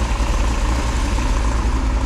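A freshly built Pontiac 400 V8 with a ram air cam, 1967 heads and a 1967 date-coded intake runs steadily nearby, a low, even rumble with a lopey pulse.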